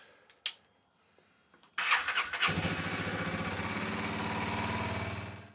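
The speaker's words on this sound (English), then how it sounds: "we're going to start the engine and run it for 5 to 10 minutes" A Honda CRF300L motorcycle engine cranks, catches, and settles into a steady, loud idle that keeps running until the end, after an antifreeze coolant change.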